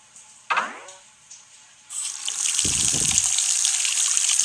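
Video game toilet flushing a ball away in a bathroom battle: a bright swoosh and a splash, then a loud, steady rushing flush of water that keeps going to the end, with no talking.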